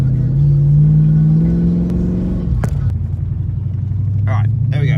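A VR Holden Statesman's exhaust rumbles loud and close, a deep burble that shifts in pitch as the engine revs, with a voice talking briefly near the end.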